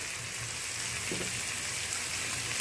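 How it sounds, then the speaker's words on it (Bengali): Egg curry masala with tomato and onion being stirred in a pan, giving a steady close sizzle with a soft scrape of the spoon partway through. "এই যে ভালো করে আমি নেড়ে নিচ্ছি"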